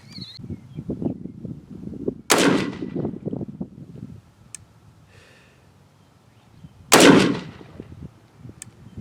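A KelTec RDB rifle fires two sharp, loud test shots several seconds apart outdoors, with low rustling and handling noise before and between them.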